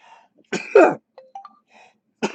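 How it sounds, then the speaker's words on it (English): A sneeze bursts out in two quick close bursts, followed by a few faint sniffs and throat sounds, then another short breathy burst at the end, all close and fairly loud in a quiet room. "Sorry, I'm about to sneeze."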